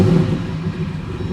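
A Jeep fitted with a 1,000-horsepower Hellephant engine revs with a deep, steady rumble, loud and close, and no voices over it.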